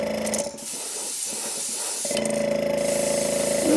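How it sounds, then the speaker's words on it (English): Pearl white base coat sprayed onto crankbait fishing lures: a steady close hiss that breaks off briefly around the half-second mark, then resumes with a faint mechanical hum underneath. "So let's give them a coating, a pearl white coat to begin with."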